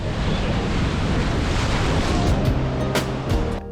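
Ocean surf breaks along a rugged Queensland coastline, a loud continuous wash of crashing waves mixed with gusty wind buffeting the microphone, with no voices.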